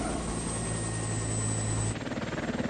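A Chinook tandem-rotor military helicopter drones loudly with a steady engine whine, then its rotor thump becomes distinct as a rapid, rhythmic chopping pulse near the end.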